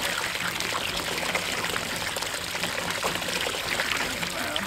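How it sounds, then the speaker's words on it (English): Water gushing steadily out of a game bird egg washer used for chicken eggs, a continuous loud splashing pour that stays close and even throughout, with no talking over it. "I knew it was going to dump out a lot of water like this"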